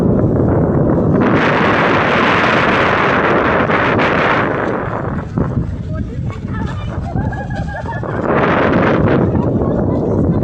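Strong wind gusting over Phewa Lake in Pokhara, a loud, continuous roaring buffet across the microphone that eases briefly in the middle before surging again.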